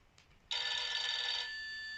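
A noisy toy telephone from a children's bedtime sound book gives one steady electronic ring. The ring starts suddenly after a faint chirp and holds bright and even, then fades a little near the end.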